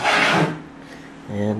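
A wooden drawer of an assembled drafting table slides shut with a short, close rubbing scrape, followed by a brief moment of low room noise.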